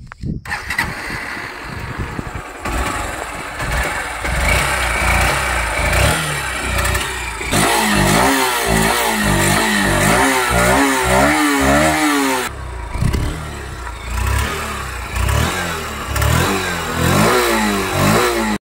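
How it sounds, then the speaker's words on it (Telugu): A 2024 Honda SP160 motorcycle starts and idles, its single-cylinder exhaust note throbbing steadily close by, then rising in several throttle blips and revs before settling back to idle. "engine sound and exhaust note విన్నారు కదా మీరు"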